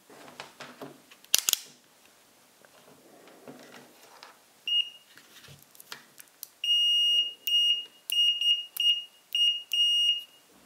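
Fluke 101 multimeter buzzer sounding a series of about six short, clear beeps in a steady rhythm, following some handling clicks and faint rustling.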